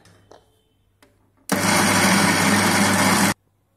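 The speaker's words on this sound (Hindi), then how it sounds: "थोड़ा सा मिक्सर चलाने के बाद हम इसको एक बार ऊपर नीचे कर लेंगे, और फिर से हमें इसको थोड़ा सा पीसना है" A mixer grinder roars at full speed grinding soaked chana dal for upma, a loud steady whir that starts abruptly, runs about two seconds alone and cuts off sharply.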